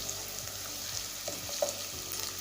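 Ginger garlic paste fries in a pan for baingan masala, giving a soft, continuous sizzle with occasional light stirring scrapes and clinks.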